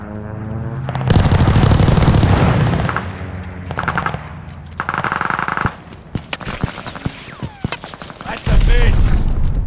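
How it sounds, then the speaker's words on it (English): Combat sounds in the video game Call of Duty: Vanguard during an airstrike, with loud rumbling blasts, rapid gunfire and sharp scattered impacts that thin out toward the end. "Allies called an airstrike."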